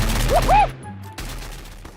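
Video game gunfire sounds as a dense, loud burst of rapid shots that cuts out abruptly, then resumes as steady noisy firing after a brief pause.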